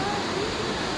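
Savica waterfall in Slovenia, the source of the Sava Bohinjka river, gives off a steady, dense roar of rushing water that fills the whole brief moment without a break.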